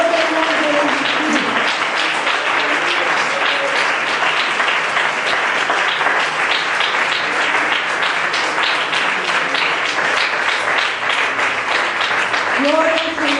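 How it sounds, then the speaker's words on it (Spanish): A church congregation at an evening service claps in a loud, sustained ovation, dense hand applause continuing unbroken for over ten seconds, with a voice briefly heard at the start and again near the end. "¿quién tiene un aplauso para Dios?"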